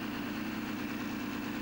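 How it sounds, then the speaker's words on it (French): Tractor-pulling tractor powered by a Rolls-Royce Meteor engine, heard as a steady, low droning engine hum with no change in pitch, fairly faint and distant. "Il a choisi un moteur Rolls-Royce Meteor pour son tracteur."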